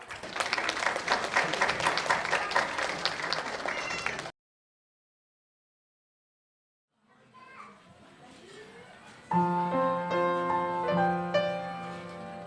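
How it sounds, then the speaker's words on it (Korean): Audience applause at a church 20th anniversary event welcoming a children's choir, loud clapping and children's voices for several seconds, then silence before soft sounds and music begin. "큰 박수로 맞이해 주시기 바랍니다"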